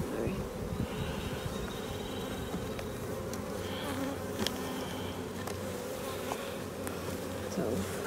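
Honey bees swarm around an open hive in a bee yard, their constant buzzing hum close and steady, with faint clicks and handling noises and brief, quiet human sounds in the background.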